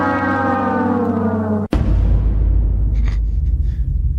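A loud, sustained buzzer tone with a rich harmonic sound effect cuts off abruptly and is followed by a rumbling, explosion-like crash that fades under a noisy wash.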